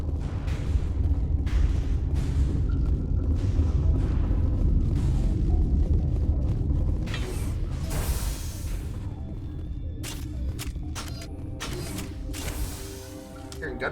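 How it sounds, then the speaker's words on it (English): Gunfire in the video game Mass Effect Legendary Edition: a rumbling, dense stretch of game noise gives way to a run of sharp, separate bursts and clattering cracks, fairly loud with no talk over it. "Hearing gunfire."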